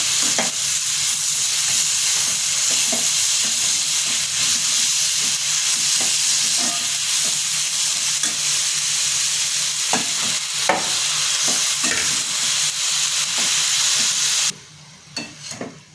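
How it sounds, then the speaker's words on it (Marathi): Cooked vegetables added a little at a time to a hot pan and stir-fried, producing a close, continuous sizzle with regular scraping and tapping of the spatula against the pan, dropping away abruptly near the end. "भाजी शिजून घेतलेली आहे ती टाकून आपल्याला परतून घ्यायची थोडी थोडी टाकून परतायची"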